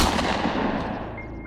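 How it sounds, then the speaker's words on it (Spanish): A single loud gunshot blast strikes at once, then rolls off in a heavy rumbling decay over about a second and a half. "Seguro había sido un disparo."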